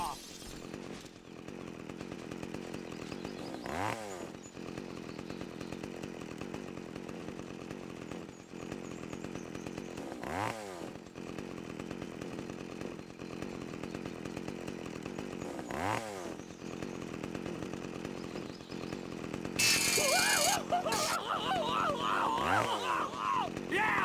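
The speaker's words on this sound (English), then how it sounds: "Boy, this chainsaw is fun!" Chainsaw engine from the Open Season video game drones steadily, loud and continuous, with a rhythmic revving swell every few seconds and a brief harsh burst near the end.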